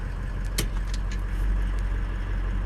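A 2003 car's engine runs steadily while shifted into reverse, giving a continuous low rumble with a faint whine on top and a few brief higher clicks near the start.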